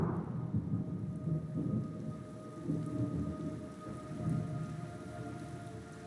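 Steady rain pours down while low thunder rumbles and rolls continuously through the background, with no voices; a rainstorm in the video game Metal Gear Solid Delta: Snake Eater.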